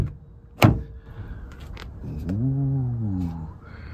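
A VW ID. Buzz electric van's door opens with a sharp close latch click, then after a pause a short wavering whine rises and falls, heard alone without talk.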